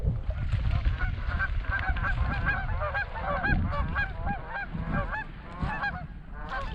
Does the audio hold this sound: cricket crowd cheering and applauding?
no